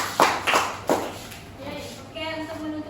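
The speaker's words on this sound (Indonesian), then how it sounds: "tepuk tangannya" A class of schoolchildren gives a few short bursts of hand clapping, bright and close, fading into quieter room noise and a voice.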